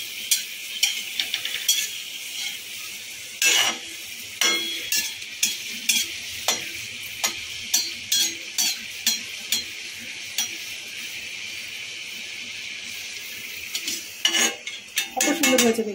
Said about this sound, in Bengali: এটাকে লোতে রেখে কিন্তু ভাজবো আমি।